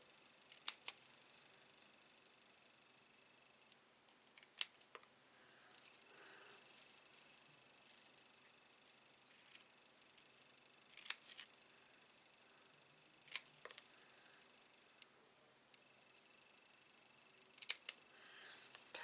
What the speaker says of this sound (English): now I can get my little scissors